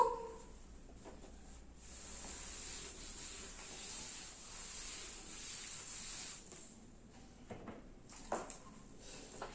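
A duster or eraser wipes a classroom board clean with a steady, soft hissing rub, made up of continuous scrubbing strokes that end in a few short swipes.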